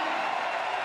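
A packed stadium crowd cheers steadily at an athletics championships in Madrid, a broad wash of voices filling the air with no distinct break.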